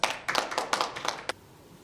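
Short burst of hand claps from an audience welcoming a speaker at the opening ceremony of a safety tourism conference, a handful of sharp claps over about a second before fading to quiet.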